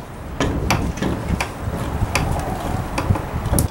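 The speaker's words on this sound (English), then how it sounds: "let's get some clamps on it" Woodworking clamps are tightened onto a Japanese planing board with sliding dovetails. Sharp knocks and clicks come at an uneven pace over a steady, close background of shop noise.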